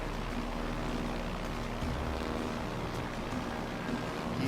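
A warship's engine drones in the World of Warships: Legends game, a steady low rumble with a faint mechanical throb that holds evenly at a constant level throughout.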